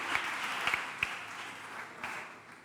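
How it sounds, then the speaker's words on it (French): Light, thin applause from a conference audience greeting a speaker at a European Union event, fairly faint with a few distinct claps standing out. "Je vous demande d'applaudir notre oratrice."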